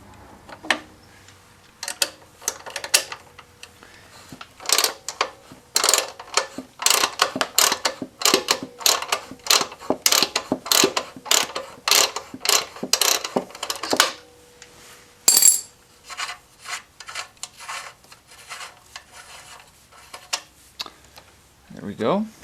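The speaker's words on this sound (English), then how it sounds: "So we're going to use a 14mm wrench and a 6mm hex." A 14mm wrench ratchets against the nut holding the muffler onto its mount on a Kawasaki Concours 14, giving a series of quick metallic clicks in uneven bursts, fairly close and moderate in volume.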